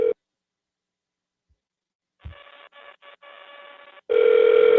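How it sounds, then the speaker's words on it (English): An outgoing telephone call: a short tone, a pause, a low click, then broken bursts of a harsh multi-tone ringback or signal, ending in a loud sustained electronic tone. "Let's see if this person answers the phone."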